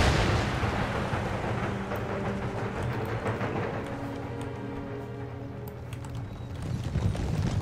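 Cannon fire from an Empire: Total War battle, with dense rumbling artillery and clattering impacts mixed with horse hooves and battle noise, loud and continuous with no talk.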